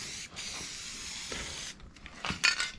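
Spray paint hissing onto a channeled car cab in a build shop, a steady close aerosol spray in continuous bursts broken by short pauses.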